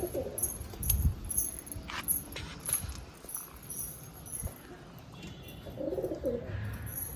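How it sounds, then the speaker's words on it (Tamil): Pigeons kept at home coo softly in soft low murmurs amid a steady outdoor backdrop of chirps and faint ambient clatter, moderately near, with no one talking. "நெக்ஸ்ட்டு புறாவை காட்டுறேன்."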